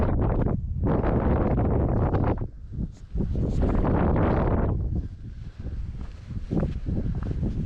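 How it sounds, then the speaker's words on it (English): Strong wind buffets the microphone in loud, rumbling gusts beside an ancient castle tower in Scotland, easing briefly and then surging again, with no other sounds standing out. "It's a shame it's so windy at this side"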